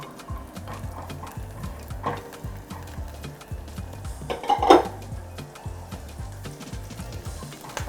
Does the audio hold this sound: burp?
no